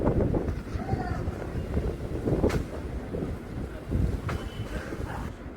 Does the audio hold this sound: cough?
no